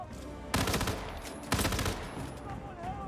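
Gunfire during a shootout in the space game Freelancer comes as two sudden, loud bursts about a second apart, each trailing into a rushing roar.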